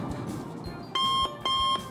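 Airport security scanner alarm sounding as two loud, steady electronic beeps, each lasting about a third of a second, separated by a short gap and rising clearly above a quiet room background.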